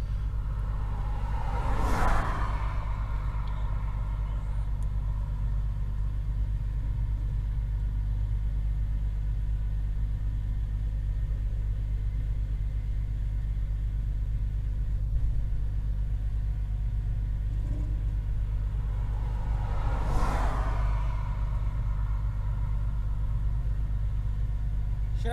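A stuck vehicle's engine rumbles steadily as it tries to pull itself out and get one tire back onto the road, with two brief louder revving bursts near the start and the end, heard from a short distance.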